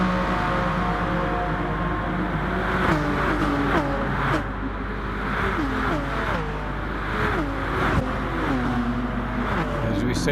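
A BMW race car in a Tokyo Expressway night racing video game drones steadily with rising and falling engine pitch as it shifts and accelerates, a continuous loud whine that runs through the whole stretch.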